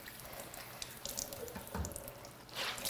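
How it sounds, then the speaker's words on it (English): Kitchen tap water runs steadily over a clean tea towel held beneath it, a continuous close splashing hiss that swells briefly near the end. "you're just gonna run it under some water, get it nice and wet"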